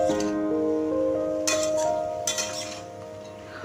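A spoon clinks and scrapes against a pan while mixed vegetables are stirred with salt and turmeric, giving a few sharp metallic taps over a soft, steady background hum.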